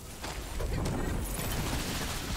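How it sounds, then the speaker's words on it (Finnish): Dense, sustained gunfire with all powers active in the Tiny Tina's Wonderlands video game, a continuous loud wash of shots and explosions with no clear gaps. "Kaikki powerit vaan päällä ja ammutaan."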